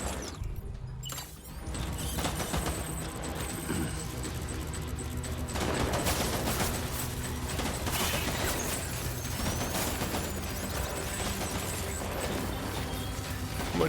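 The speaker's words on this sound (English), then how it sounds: "I'm throwing grenades and trying not to die." Gunfire and grenade blasts in the Death Stranding video game form a dense, continuous battle din, with rattling shots and booms layered under steady game noise throughout.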